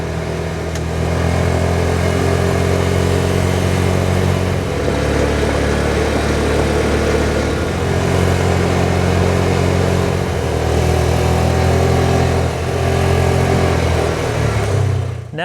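A vehicle's engine drones steadily while driving back toward a truck with a flat tire, a continuous mid-pitched hum that rises and falls slightly with throttle changes, heard from close by and without talk.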